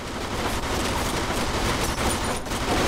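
Sustained gunfire rattles through a Mafia 2 shootout as a dense, loud wash of overlapping shots and crackling impacts with no break, near and heavy throughout.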